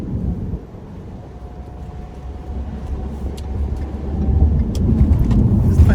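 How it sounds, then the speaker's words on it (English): Road traffic passes on a growing, busy stretch of road, a steady low rumble that builds louder toward the end, with no talking. "Man, what's up with this traffic?"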